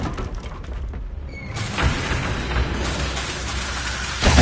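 The Descendo spell cast in the Hogwarts Legacy video game sets off a sudden rumbling crash, a burst of crumbling debris and a sustained heavy roar, followed by another thud at the end, loud and close with no talking.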